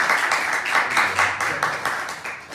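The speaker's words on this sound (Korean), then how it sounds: "박수 한번 쳐요." Congregation at a Sunday church service claps together in a quick, regular rhythm of about ten sharp beats, close and fairly loud, with no talking over it.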